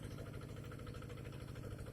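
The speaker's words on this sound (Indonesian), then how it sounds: "traktor membajak tanah untuk menanam padi" A tractor engine runs steadily in a rice paddy during land plowing, its loud, continuous low throbbing idle-like rumble filling the scene with a rhythmic mechanical pulse and no voices.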